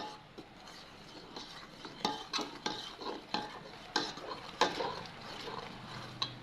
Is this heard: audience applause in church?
no